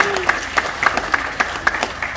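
A seminar audience gives a short round of applause, a steady patter of many hands with several louder claps standing out over about two seconds.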